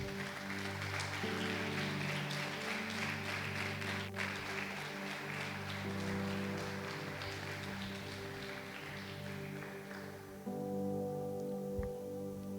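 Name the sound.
congregation applause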